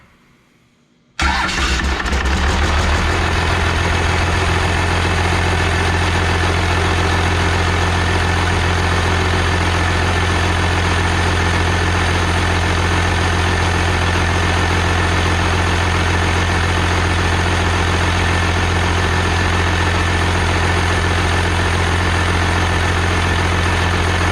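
A 12-valve Cummins diesel engine starts after a second of silence, then settles into a loud, steady idle that runs close and continuous for the rest of the clip, with no talk over it.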